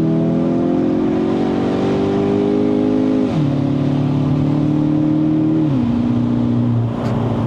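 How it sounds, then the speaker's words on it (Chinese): A Kia Optima GT with a 2.0-litre turbo engine revs hard, its pitch climbing steadily before the automatic gearbox shifts twice, each shift dropping the engine note before it pulls up again, loud and close from inside the car. "我感觉到6000，它可能是在6200这样，它的力要没有的时候，它就自动换挡了"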